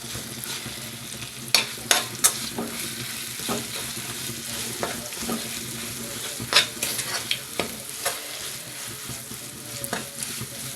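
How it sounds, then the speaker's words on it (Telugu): Tamarind chutney is stirred into a hot oil tempering with a steady, soft sizzle, broken by repeated scraping knocks of the spoon against the pan at an uneven pace, close by and with no voices. "ఈ పోపులో దీన్ని బాగా కలుపుకుందాం"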